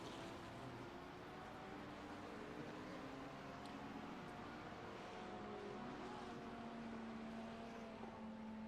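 A GT3 race car at the Detroit street circuit rolls across the start-finish line, its engine a steady, fairly distant drone under continuous broadband track noise with no clear pass-by peak.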